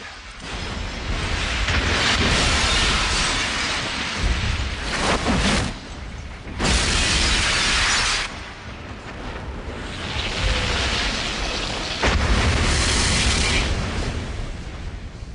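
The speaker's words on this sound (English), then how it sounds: "Explosions." Loud, continuous rumbling explosions from the Fallout video game, as a cathedral is destroyed, roll on for the whole stretch, with heavy booms and crackling blasts surging and fading in waves.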